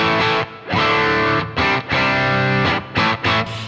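Distorted electric guitar played through a Boss GT-1000 multi-effects rig with parallel compression, strummed chords in several bursts with short gaps, close and loud, no talking.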